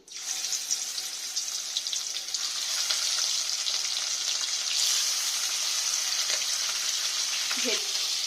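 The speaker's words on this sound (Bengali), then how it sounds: "এবার আমি এই মাছগুলো ভেজে নেব" Foli fish frying in hot oil in a pan (kadai), giving a loud, steady crackling sizzle throughout, with occasional soft clinks of a utensil near the end.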